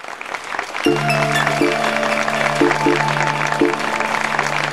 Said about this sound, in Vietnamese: xin một tràng pháo tay nữa